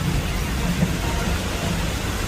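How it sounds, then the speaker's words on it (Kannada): Dense, steady rain hisses close by without a break, a broad wash of noise with a low rumble beneath it and no voices. "ಮಳೆ ಅಂತೂ ಬಿಟ್ಟು ಬಿಡದೆ ನೋಡಿ ಮಳೆ"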